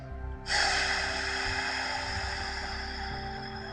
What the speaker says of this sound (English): I'm going to take a nice deep breath in.